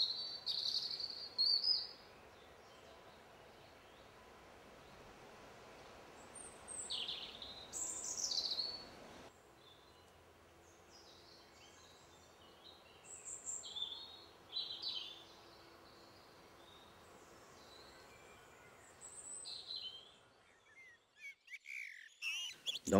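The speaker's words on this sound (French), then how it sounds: "le merle passe pour l'un des meilleurs chanteurs de la société aviaire" Faint, scattered common blackbird song drifts in from a distance, short fluting phrases repeating at irregular intervals over a quiet outdoor background.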